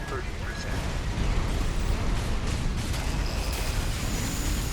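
A bazooka round exploding in the video game Armored Core 6, a loud, sustained rumbling blast mixed with ongoing game noise, with a voice talking over it.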